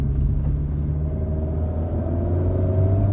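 An Alpine A110 sports car cruises gently in normal mode, giving a steady, loud, low engine drone and road rumble heard from inside the cabin, with no talking.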